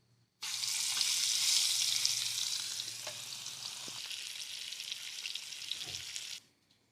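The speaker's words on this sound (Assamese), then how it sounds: "মাছখিনি আধা ভজাকৈ ভাজি ল'ম।" Fish pieces are half-fried in hot oil, a steady close hiss of sizzling that starts abruptly, holds for several seconds with a few utensil taps, then cuts off with no voices.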